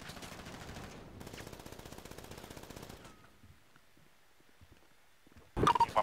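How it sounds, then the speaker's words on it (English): Two long bursts of automatic gunfire crackle during a mass-shooting response in a police roleplay game set in Ontario. The fire is fairly faint and distant, followed by near quiet and then a sudden sharp, louder burst at the very end. "Can you tell where the shots are coming from?"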